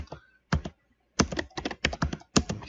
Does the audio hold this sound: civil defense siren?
no